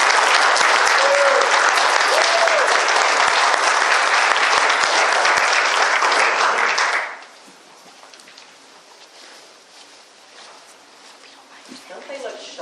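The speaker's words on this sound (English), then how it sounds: "Let's give these graduates another round of applause." Sustained audience applause for a graduating class at a correctional center ceremony, dense loud clapping for about seven seconds that then cuts off to quiet room tone with faint voices.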